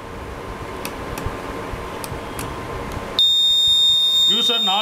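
A fingerprint door security system sounds its alarm for an unregistered finger: a loud, steady high electronic beep that starts suddenly partway through and holds to the end, with a voice talking over it.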